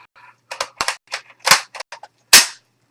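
Rifle lever being worked back up, a run of sharp metallic clicks and clacks in quick uneven succession, loud and close, with one hard snap near the end.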